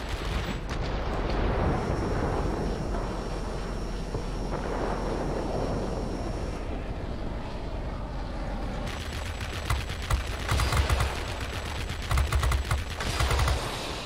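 Aircraft cannon fire from the Lockheed XF-90 in the online game World of Warplanes rattles on continuously as dense rapid gunfire, then breaks into louder separate bursts toward the end, with no talking.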